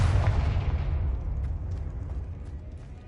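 A single booming explosion from the Confringo spell in the video game Hogwarts Legacy on PS5, striking hard at the start and then rumbling and fading over about three seconds.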